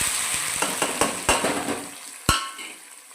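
Mustard seeds and red onions fry in hot oil for a village-style chicken curry, a steady close sizzle broken by sharp spatula scrapes and clinks against the pan, with one loud pop or clatter near the end.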